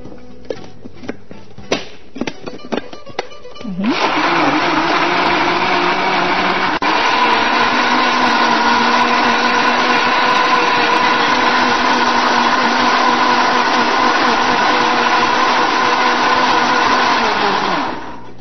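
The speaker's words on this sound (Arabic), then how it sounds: "كل اللي هعمله ان انا هضربها في الخلاط مع بعض" A blender mixing dates and banana whirs loudly and steadily for most of the clip, starting after a few short knocks and clicks, then cuts off at the end.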